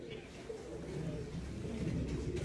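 Pigeons cooing on a rooftop in a flock of about 105 birds, with soft low coos under a steady outdoor murmur, faint and a little distant, alongside background voices.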